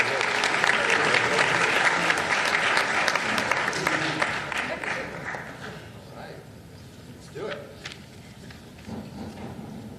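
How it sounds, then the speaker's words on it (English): Applause from an audience at a city commission meeting for students and parents, dense and loud at first, then thinning and fading over several seconds with scattered claps and movement. "give them both a round of applause"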